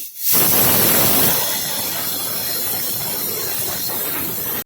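A loud, sustained hiss of steam bursts out and continues steadily, a pressure cooker whistle venting close by on a high gas flame.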